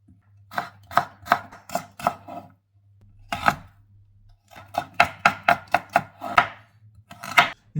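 A carrot is being prepared for Chinese-style fried rice, with crisp rhythmic cutting or grating strokes close by: one run of quick strokes, a pause with a single stroke, then a longer steady run, with no talking.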